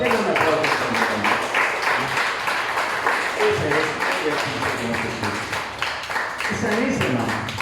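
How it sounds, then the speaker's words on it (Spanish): Church congregation applauding during a sermon, a continuous crowd clapping wash mixed with voices and cheering throughout, fairly loud and sustained. "Tenga una aplauso para mi hermano"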